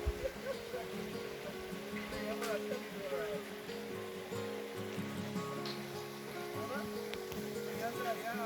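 River water diverted past guesthouses in a Ladakh village murmurs and gurgles in a steady, soft wash, continuous and fairly faint, with no break.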